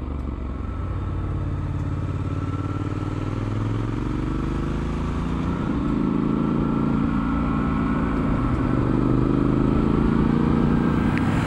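A Triumph Scrambler 1200 XE motorcycle cruises down an open road, its engine a steady, loud, close drone that rises gradually in pitch as it gathers speed, under constant wind rush.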